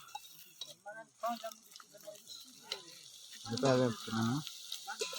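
A man cooking dal curry outdoors, with soft frying sizzle and occasional clinks of a pan and utensils, heard faintly beneath several people talking nearby.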